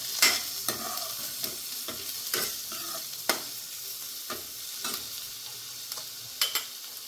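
Garlic, chili and onion sizzle in a pan while a spoon stirs them. The frying hiss is steady and close, broken by repeated scraping strokes and light clinks at an uneven rhythm.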